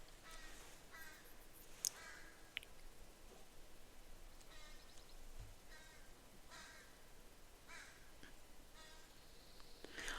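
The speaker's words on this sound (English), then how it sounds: "I love that the crows are showing me, like, a different song. Different sounds." Several crows caw from a distance, their harsh calls repeating irregularly over a faint, steady outdoor background.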